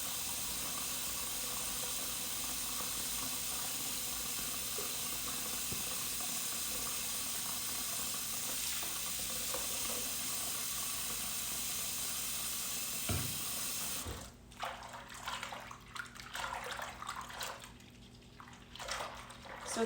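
Running tap water for hand-washing a wig in cool water, a steady broadband hiss that flows unbroken before cutting off abruptly, followed by quieter splashing and sloshing as the wig is moved in the sink.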